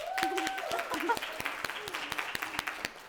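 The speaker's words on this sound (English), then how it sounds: "Let's give her a big clap." An audience claps for Lauren at a dance business mastermind event, a short burst of sharp, close individual claps under and between people speaking.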